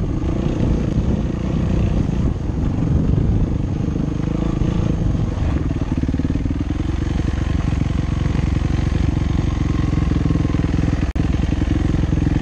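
A light dirt bike motorcycle being ridden, its engine buzzing loud and close without a break, the revs rising and falling slightly along the way.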